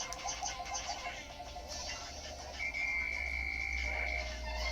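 Frogs croaking in the video game Pikmin 3 Deluxe, a dense chorus of repeated croaks over a low ambient hum, with a sustained tone emerging partway through.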